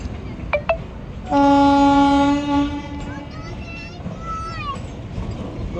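A train horn blasts in a long loud tone over the steady rumble of a passing train, with brief shorter honks and a voice talking nearby.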